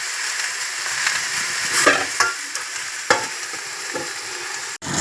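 Spinach frying in a pan, with a steady, close hiss of sizzling oil broken by a few scraping strokes of a stirring utensil, with no talk.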